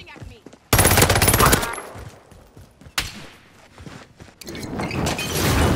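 Bursts of automatic gunfire from the Call of Duty: Resurgence video game, a loud rapid volley up front, then a sharp shot and another sustained burst near the end, with quieter clicks and shuffling between.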